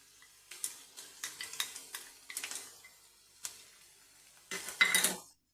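Poppy seed paste going into a pan of frying potatoes and being stirred, a series of sharp spoon scrapes and knocks against the pan over a faint sizzle, ending in a louder burst of clatter.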